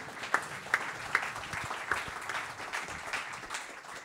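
An awards ceremony audience applauds a prizewinner, with a few sharp, distinct claps at the start swelling into steady, moderately quiet clapping from many hands.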